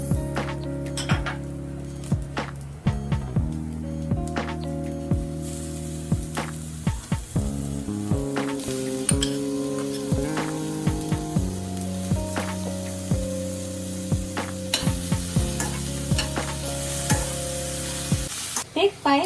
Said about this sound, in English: Put the rest of the veggies and let it saute for another 5 minutes.